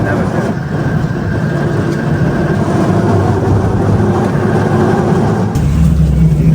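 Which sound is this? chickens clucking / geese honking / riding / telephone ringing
riding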